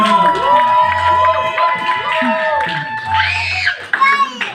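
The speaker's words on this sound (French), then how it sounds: "Alléluia, on acclame le Seigneur." A church congregation in Lyon cheers and claps in worship, with voices rising in a loud crowd and excited shouts bursting out near the end.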